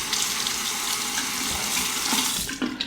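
Tap water runs steadily and fairly loud while a combo razor is rinsed under it, a continuous close splashing rush with a brief shift near the end.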